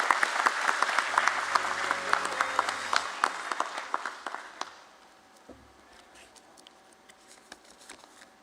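Applause from an audience at the NSDL listing ceremony at BSE welcoming a speaker, a dense crowd clapping that is loud at first, then fades after about four seconds into scattered claps.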